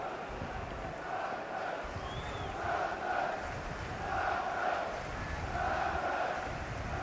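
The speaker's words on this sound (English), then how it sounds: "A re-energized crowd on the south coast" A football crowd roars and chants at a Southampton v Liverpool League Cup match on the south coast. The noise forms a distant, broad swell that rises and falls in rhythmic waves of chanting.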